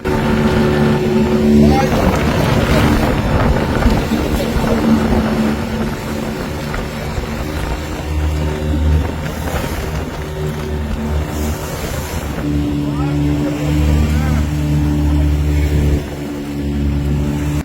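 A fishing boat's engine drones loudly and continuously on rough, windy sea, its low rumble shifting in pitch as it revs, with wind noise throughout.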